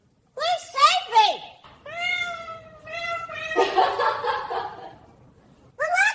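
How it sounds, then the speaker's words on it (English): A cat meows repeatedly and up close: several short calls, then longer drawn-out wails, with brief pauses between them. "This cat thinks I'm her lunch."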